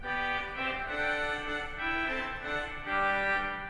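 Petite trompette reed stops at 8-foot and 4-foot pitch combined on a large Washington DC church pipe organ, giving a brighter, layered buzzing chord progression that moves steadily in phrases, unaccompanied by talk.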